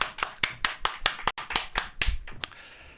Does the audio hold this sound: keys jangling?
no